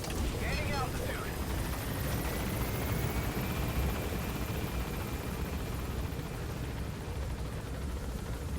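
A helicopter lifts off and gains altitude in the video game Metal Gear Solid V: The Phantom Pain, its rotor wash a loud, continuous roar with brief radio chatter at the start.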